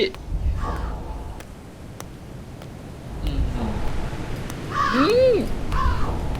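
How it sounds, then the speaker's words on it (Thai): A few harsh crow caws sound out amid a steady game-like background hum, with a louder warbling call near the end, in the horror game Siren Head Field, set in a cornfield. "คุณอีกาครับ"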